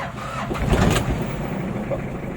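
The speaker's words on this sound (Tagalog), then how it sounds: "Sa yanig pa lang ng makina at tunog ng idle niya" A rough, uneven engine idle rumbles close by, the engine misfiring, with a brief louder surge near the start before settling into a steady, shaky drone.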